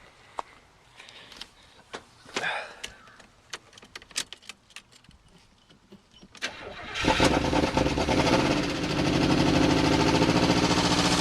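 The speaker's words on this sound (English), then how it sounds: "Let's see if it cranks up." An Oldsmobile 260 V8 with gas poured down the carburetor, cranking in a series of sharp, irregular clicks and turns before it catches at about seven seconds and settles into a loud, close, steady idle; no one speaks.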